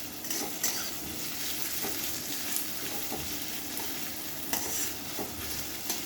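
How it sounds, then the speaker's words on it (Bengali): Onion with green and dry chillies frying in oil for ridge gourd fry, a steady close sizzle with occasional clinks and scrapes of stirring throughout, no voices. "পেঁয়াজটা একটু ভেজে নিলাম এবং কাঁচা লঙ্কা আছে"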